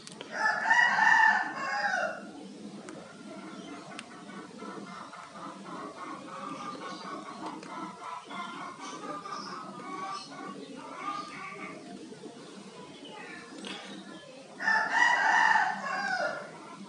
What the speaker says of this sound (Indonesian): Maaf ya kalau videonya banyak suara ayam karena masih pagi